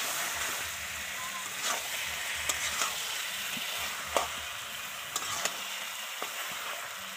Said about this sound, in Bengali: দিয়ে দিচ্ছে মাটনটা, দিয়ে ভালো করে মাটনটার সাথে মশলাটা মিক্সড করে নেবে, ভালো করে কষিয়ে নেবে